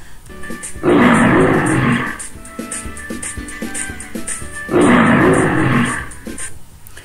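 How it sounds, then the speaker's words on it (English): Two deep, rumbling lion roars, each about a second long, sound close and powerful with a quieter gap of low grunting between them. "Lion roars. The sound of lion is called roar."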